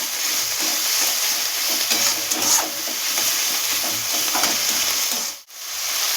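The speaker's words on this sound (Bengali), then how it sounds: "একটু কষে নেব।" Spices for a pomfret curry sautéing in a pan while being stirred, a loud constant sizzle with repeated scraping strokes, cutting out briefly near the end before resuming.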